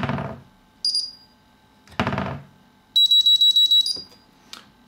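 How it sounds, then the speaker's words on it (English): An FPV drone's electronic speed controller gives short, high electronic beeps, first a single beep and then a quick string of about six evenly spaced beeps. Louder thumps and handling noises come between them in a quiet room. "and then it will beep to confirm"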